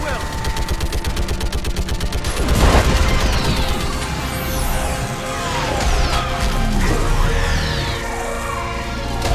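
Gunfire and heavy blasts in a Mass Effect 3 firefight after an order to fire, with dense rapid shots, a loud boom near the three-second mark, and sweeping sci-fi whines overhead, under a busy layered battle mix.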